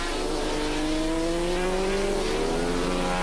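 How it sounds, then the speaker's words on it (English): 500cc Suzuki Grand Prix racing motorcycles race side by side down the straight at a 1986 Swann Series race meeting, engines screaming at high revs with pitch steadily rising, heard from a distance over a constant roar. "bike 27, David Horton's 500 Suzuki, as Holden comes side by side with Horton down the straight"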